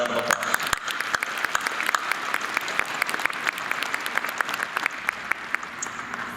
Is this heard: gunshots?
no